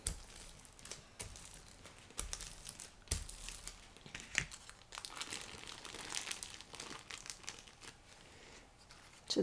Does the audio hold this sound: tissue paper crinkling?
yes